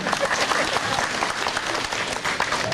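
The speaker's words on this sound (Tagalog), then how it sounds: "Pumalakpak naman kayo dyan." Audience applause at a comedy show in a casino venue, a brief dense burst of clapping from the crowd filling the whole clip.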